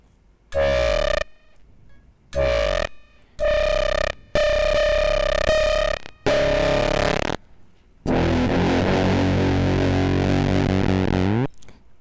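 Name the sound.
guitar through Quad Comparator synth, sputtering filter cutoff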